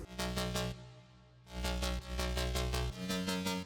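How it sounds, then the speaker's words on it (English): A metallic, square-wave synth bass built in Serum with an LFO on the cutoff, distortion, phaser and compression, pumping in rhythmic stuttering bursts with a brief dip after the first phrase. "This is more of the metallic bass sounding one."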